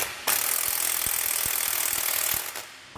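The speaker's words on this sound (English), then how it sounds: "Then we can take our 19mm socket and tighten up that nut." A ratchet with a 19mm socket clicks in quick, even pawl ticks while tightening a nut on rear suspension work on a 2015 Toyota, close and fairly loud over a steady hiss.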